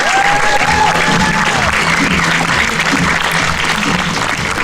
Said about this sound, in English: Thank you for that wonderful applause